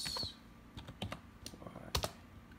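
Keys on an Apple Mac keyboard are typed in a short burst of separate, close clicks with brief pauses between them and no talking.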